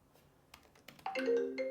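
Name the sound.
phone ringing with an incoming call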